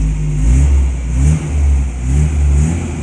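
A 1971 Opel GT engine with 111,000 miles, original and unmodified, heard loud and close as it revs in repeated swelling waves of throttle, rising and falling about every second.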